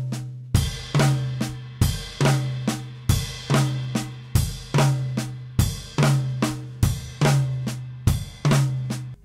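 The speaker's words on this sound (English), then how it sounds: "and then take the third note to the ride or a crash cymbal." A drum kit plays triplets at a slow tempo, with a flam split between two drums and the third note landing on a ride or crash cymbal. Evenly spaced hits repeat alone, each followed by a ringing cymbal wash.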